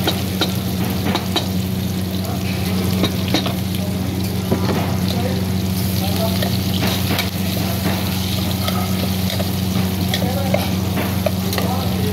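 Garlic and onions sauté in a pan as a steady, loud sizzle with repeated stirring scrapes, accompanied by a low constant hum in the background and no talking.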